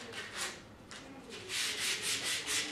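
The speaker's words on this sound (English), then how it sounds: "the finish sand, this is an 80 grit" 80 grit sandpaper on a sander smoothing a wooden crutch, a close rhythmic scratchy rubbing in repeated strokes that grows louder and quicker toward the end.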